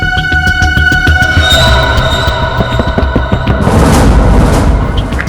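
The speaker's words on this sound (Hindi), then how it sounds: "किसी चीज के ठोकने की आवाज है सर। पानी का टंकी के अंदर कुछ लग रहा है।" Repeated heavy knocking from inside a water tank at a bungalow, a run of loud, booming thuds laid over a dense, tense musical backdrop.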